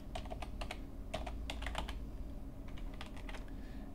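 Quiet, irregular clicking of keys on a computer keyboard in short bursts, with a faint steady background hum and no voices.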